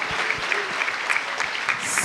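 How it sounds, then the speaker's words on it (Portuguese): A church congregation applauds loudly during an anniversary celebration service, a steady burst of many hands clapping close by, with a few voices mixed in. "Vamos aplaudir bem forte a Jesus."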